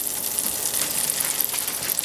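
About a tablespoon of butter melts in a pan before scallops are seared, giving a steady, close, hissing sizzle with faint crackles throughout.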